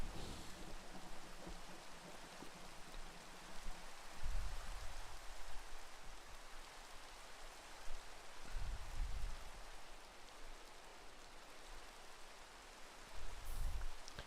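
Rain falls in the video game Minecraft as a steady, soft hiss of drops, with a few low rumbling swells and no talk.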